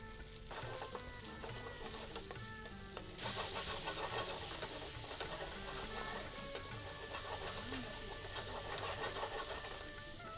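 Cumin seeds, fenugreek seeds and chopped onion fry in hot oil in a pan, making a loud, continuous close-up sizzle and hiss with occasional stirring scrapes.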